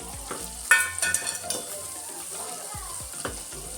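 Chicken masala with coriander powder and garam masala frying in a pan, with a soft steady sizzle and scrapes and clinks of a spoon stirring against the metal, all close and without talk.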